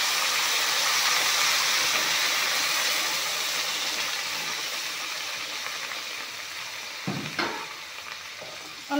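Hot water hits a hot pan of tomato and pea curry with a loud hissing sizzle that gradually settles, followed by a few stirring clinks near the end.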